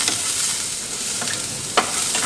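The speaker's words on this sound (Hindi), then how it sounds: "ओके हल्का सा सॉटे कर लेंगे इसको" Onion and green chili sautéing in a pan, a steady soft sizzle throughout with a few brief stirring scrapes, close and fairly loud, no talking.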